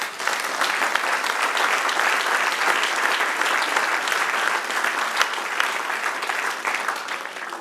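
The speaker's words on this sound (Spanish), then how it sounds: "Dale un aplauso al Señor." Church congregation applauding during a Spanish-language sermon, a steady dense wash of many hands clapping close and even throughout with no pauses.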